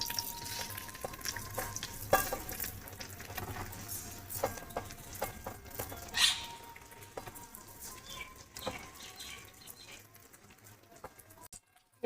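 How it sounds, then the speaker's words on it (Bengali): Gobindobhog rice stirred and fried in ghee in a wok: a soft continuous sizzle with repeated scraping, clicking spatula strokes close by, and no talk. "এবারে গোবিন্দভোগ চালটা নাড়িয়ে নিচ্ছি।"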